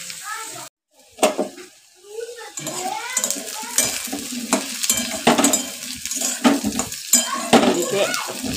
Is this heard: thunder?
no